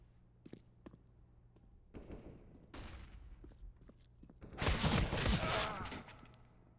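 Counter-Strike match gunfire, an AK rifle trading shots with a pistol: scattered single cracks and footsteps first, then a louder sustained burst of rifle fire near the end.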